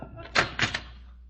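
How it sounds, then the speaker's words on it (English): A door being opened as a radio-play sound effect: a few quick close thumps and a rattle of the latch in a short cluster, then quiet. "Please, open the door, Simon."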